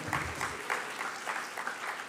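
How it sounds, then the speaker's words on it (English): Graduates at a university hooding ceremony clap for themselves, a steady, fairly loud patter of many hands with a slight pulsing rhythm throughout. "You can applaud for yourself."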